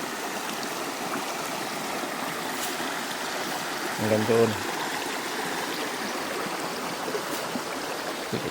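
A clear river in Camarines Sur flows in a steady, close rush of water, and someone speaks briefly over it.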